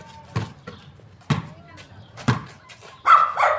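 A dog barks four times at roughly one-second intervals, sharp and fairly close, while a person talks between the barks.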